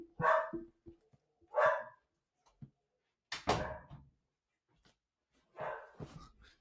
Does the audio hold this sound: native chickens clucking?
no